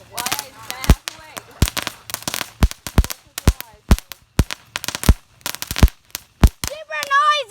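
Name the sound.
fireworks going off early for Fourth of July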